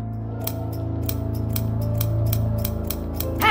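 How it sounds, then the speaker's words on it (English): Metallic scissors snip over and over in a horror video game, a steady run of sharp, regular cuts roughly every third of a second over a low droning ambience, with no talk. "There's something unnerving about the sound of those scissors, snipping over and over and over"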